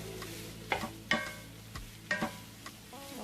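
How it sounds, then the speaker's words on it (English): Chicken breast, beansprouts and bell pepper stir fry tossed in a pan, a handful of sharp utensil scrapes and clatters landing at irregular moments over a steady low sizzle, close and fairly quiet. "I'll go ahead and add my Beansprouts and then give it a stir"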